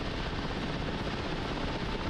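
Helicopter in the DCS World flight game, its engine whine and rotor thrum forming a loud, constant drone that fills the short stretch without any talking.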